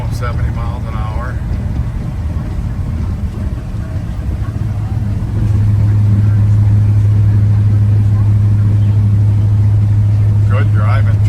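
A 1987 Chevrolet R10 two-wheel-drive pickup with a factory 350 engine cruises at highway speed, its engine drone and road noise steady, then rising into a louder, even hum, with someone talking over it.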